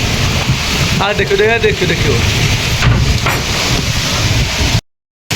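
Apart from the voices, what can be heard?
heavy storm with strong wind and thunder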